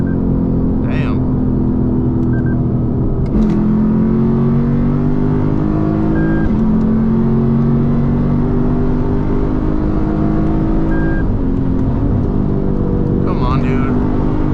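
Lexus IS F V8 running on E30 fuel, revving hard under acceleration from inside the car, a loud, steady engine drone with rising pulls and gear shifts, accompanied by faint chimes.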